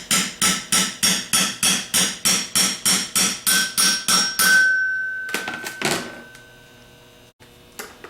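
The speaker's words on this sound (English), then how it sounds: "Then finish tapping it in." A hammer tapping a bushing into a 10MT starter: about fifteen steady, evenly spaced metallic blows up close, followed by a few scattered knocks and clatter as the work is set down.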